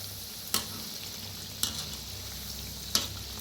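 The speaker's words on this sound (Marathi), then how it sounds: "गॅस कमी करूनच तळा" Shankarpali, small pieces of sweet dough, fry in oil over low heat, giving a steady close bubbling sizzle with three brief stirring clinks.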